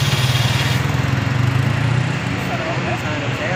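A vehicle engine running during the recovery of an overturned truck: a loud, steady, throbbing drone that holds, then eases slightly, with people talking over it.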